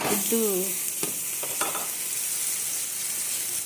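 Egg, garlic and chili curry fries in a pan with a constant bright sizzle, a few soft stirring knocks, and a brief voice near the start.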